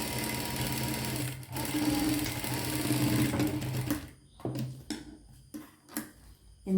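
A sewing machine stitches fabric and lining together, running steadily and closely for about four seconds before stopping, followed by light clicks and fabric handling.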